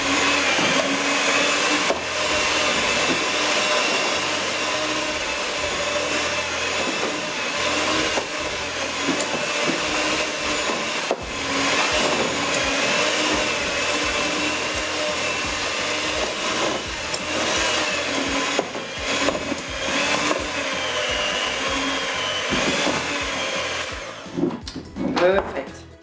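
An electric mixer kneads bread roll dough, a loud continuous motor whir that holds steady for the whole stretch with a few bumps and knocks near the end.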